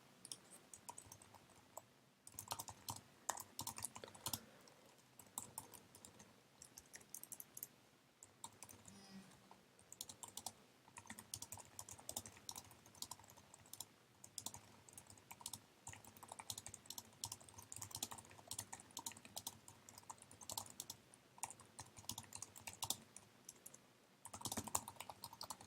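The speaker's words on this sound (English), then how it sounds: "I can type a reply" Fingers type a reply on a computer keyboard in quick, irregular bursts of quiet, close key clicks with short pauses between them.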